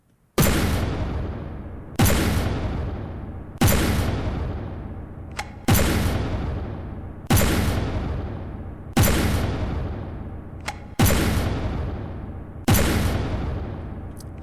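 Flak cannons fire shells in the naval combat game From the Depths, eight loud booming blasts at a steady interval of about one and a half to two seconds, each decaying slowly into the next with no voices.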